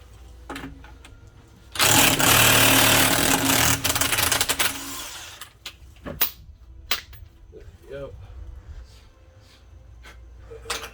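A power tool bursts into a loud whirring run for about three seconds while rear brake pads are replaced on a Dodge Grand Caravan, followed by quieter clanks and knocks of parts handling.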